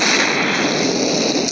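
Rapid, fast-firing gunfire from a strong gun in the mobile shooter game Mini Militia, a dense, continuous crackle of shots that stays loud and steady for the whole moment, with no voices over it.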